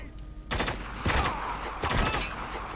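Three sharp bursts of gunfire crack out in the shooter Spec Ops: The Line, each a short loud volley over a low rumbling backdrop, spaced roughly a second apart.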